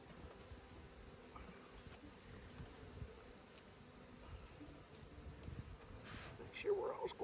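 Honey bees buzz in a steady, faint hum during an early spring hive inspection, with some soft rustling and handling noise building toward the end.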